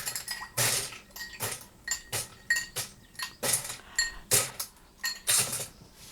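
Rhythmic rattling of ice inside a cocktail shaker, about a dozen quick bright shakes in steady succession, close and fairly loud.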